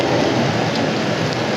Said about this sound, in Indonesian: Duel sprint pada kondisi cuaca yang ekstrim, hujan lebat.